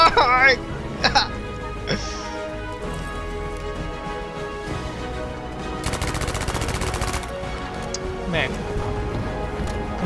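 Battlefield V gunfire crackles in sharp bursts and rapid automatic volleys, some near and loud, others quicker and fainter, mixed with excited shouting voices.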